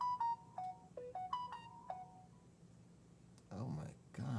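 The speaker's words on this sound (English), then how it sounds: "I just pick up the phone and 3 messages come in" A phone plays a quick melodic chime of short descending and rising tones as messages arrive, fairly close and clear, followed by a person starting to speak.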